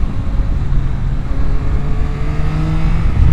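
A 2024 Yamaha Tracer 9 GT sport-touring motorcycle engine pulls hard on a twisty road with a quick shifter, a loud, steady droning roar that rises in pitch under heavy wind rumble.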